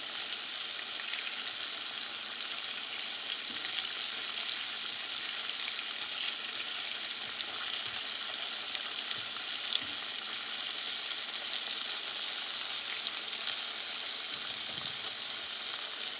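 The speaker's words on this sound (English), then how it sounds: "The thing about frying fish, it's kind of like frying chicken." Fish fries in hot oil for hushpuppy-and-coleslaw supper, a steady, dense bright sizzle with soft crackle and bubbling that holds evenly throughout, close and continuous with no one speaking.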